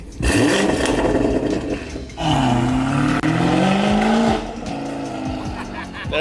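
A BMW X5 drives off and accelerates hard, its loud close engine roaring and rising in pitch through the gears with tire noise, a steady powerful rush that eases slightly near the end.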